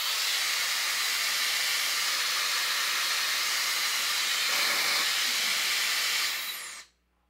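A Shark FlexStyle hair dryer blows at full fan speed, a loud, close, steady rushing hiss of air that holds for several seconds before abruptly cutting off.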